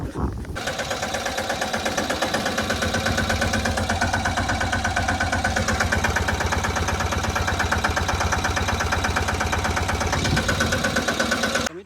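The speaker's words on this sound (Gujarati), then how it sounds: "જો આ મિની ટ્રેક્ટર છે" A mini tractor's engine runs steadily for the whole stretch, a loud, close, continuous mechanical chug with a fast, even pulse and no pauses.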